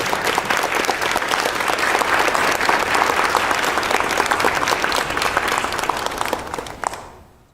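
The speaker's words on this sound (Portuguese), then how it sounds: "Vamos aplaudir essa palavra?" A church congregation gives a sustained round of dense applause during a sermon service, loud and even throughout before quickly fading out at the end.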